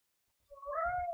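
A domestic cat gives one clear, rising meow close by, in an otherwise quiet room.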